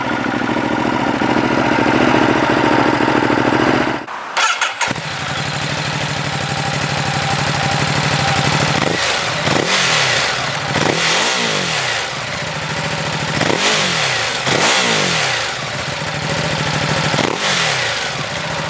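A 2017 Ducati Hypermotard 939 motorcycle engine idles loudly, then cuts briefly and fires up again, followed by a series of sharp throttle blips that rise and fall repeatedly at close range.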